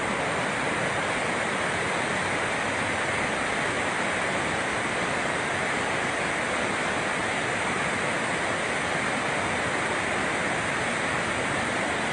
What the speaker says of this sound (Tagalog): Ito na yung tubig na lumalabas sa Magat Dam. Ayan. Open siya, 5 spillways to open.